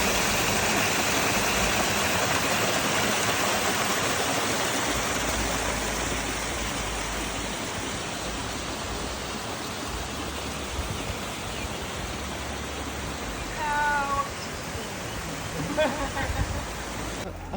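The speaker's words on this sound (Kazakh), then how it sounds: "мынаның арасынан су ағады" Spring water flowing from the ground at a campsite in Kazakhstan makes a steady, loud broadband rush throughout, with a few brief faint higher sounds near the end.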